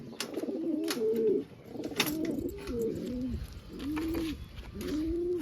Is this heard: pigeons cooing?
yes